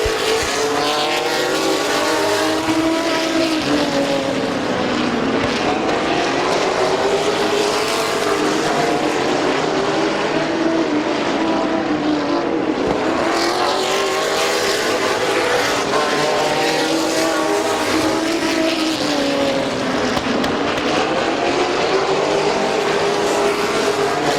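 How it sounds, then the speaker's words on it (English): Race trucks roar around the Midvale Speedway oval, their loud engines rising and falling in repeated sweeping waves as the pack passes, with a constant dense roar throughout. "Sean Zepp in that 81 truck starting to move in on Huffman for the second position."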